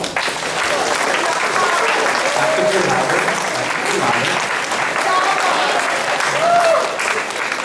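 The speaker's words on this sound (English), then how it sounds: "So kids, if you could give your folks a round of applause." A round of applause for the parents at a high school track and field awards night, steady crowd clapping filling the room from start to finish, with a voice heard faintly beneath.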